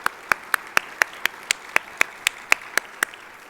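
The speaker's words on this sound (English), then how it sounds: "Can we have your applause?" Sparse, evenly spaced handclaps, about one every quarter second, ring out sharp and near in a school district event hall, with no talk over them.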